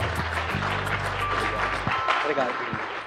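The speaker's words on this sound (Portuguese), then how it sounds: "uma salva de palmas para eles" Audience applause for a speaker at a business school lecture event, a dense wash of clapping through the clip with a low musical hum under the first two seconds and faint voices mixed in.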